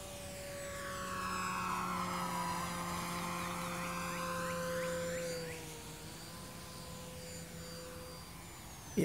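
A Tower Hobbies Cessna 400 RC model airplane flies past, its electric motor rising to a whining drone, then sweeping down in pitch as it moves away, fairly distant, with no talk over it.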